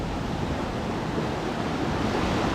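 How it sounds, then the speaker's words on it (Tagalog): A continuous heavy roar of rough sea, broad and unbroken, with wind noise buffeting throughout. "Malakas pa tayong alon mga kabossing."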